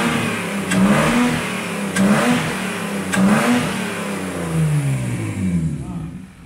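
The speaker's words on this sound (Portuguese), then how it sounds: "Dá uma acelerada aí." A BMW drift car engine revs hard in three sharp bursts, each climbing and then falling away, followed by a longer sweeping rev that fades to quiet. It is loud and close.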